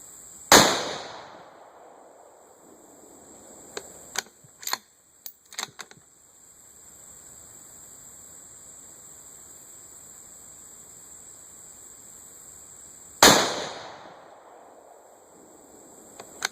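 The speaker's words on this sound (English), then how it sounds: "This is the PPU 55 grain stuff. It's nothing fancy. I don't expect much out of it anyway, but we'll take some shots." A Ruger American Ranch Rifle with a short barrel fires PPU 55 grain rounds outdoors: two sharp, loud cracks about twelve seconds apart, each with a ringing tail, and a few small mechanical clicks between them.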